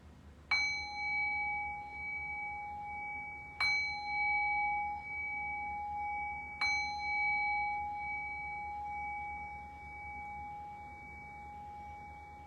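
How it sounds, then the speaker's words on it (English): A meditation bell is struck three times at slow, even intervals, each clear ring lingering and fading over a quiet background. "So we'll make this transition now by ringing the bell."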